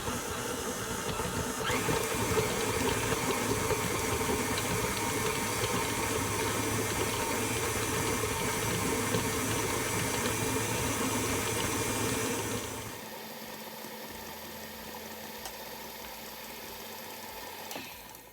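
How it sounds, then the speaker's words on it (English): Stand mixer creams soft room-temperature butter in its bowl with a steady motor whir and rattle, then quietens sharply near the end. "to the bowl of our stand mixer, we are going to add a half a cup of soft room temperature butter"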